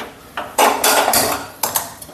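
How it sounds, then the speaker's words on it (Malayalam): A metal pot filled with water is set onto a kitchen stove, giving a few close clanks and scrapes of metal on metal in quick succession. "ഇതിനി അടുപ്പയിലോട്ട് വെക്കുക."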